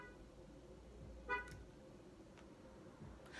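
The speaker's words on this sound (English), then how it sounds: "how many times you gonna lock your car?" A parked car's horn gives a short lock chirp, one brief faint toot heard from some distance against quiet background hum.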